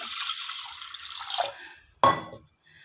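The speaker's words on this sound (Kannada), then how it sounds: "ಅದಕ್ಕೆ 3 ಕಪ್ಪಷ್ಟು ನೀರು ಹಾಕಿ" Water poured from a cup into a pressure cooker holding toor dal: a bright, steady pouring stream for about a second and a half, a brief pause, then one short splashing clink close by.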